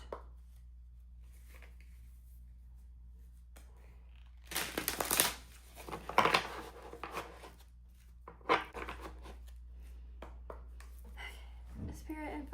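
Tarot cards are shuffled and handled in a few short rustling, riffling bursts separated by quiet gaps, over a faint low hum.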